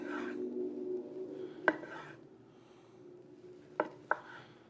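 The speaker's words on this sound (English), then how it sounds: "We're gonna cut against the grain." A knife slices through smoked brisket against the grain, with soft scraping strokes and a few sharp taps of the blade meeting the board, quiet and close.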